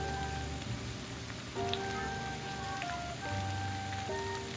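Potato pakoras fry gently in oil over low heat, a soft, faint, steady crackle and patter like light rain, heard close and alone.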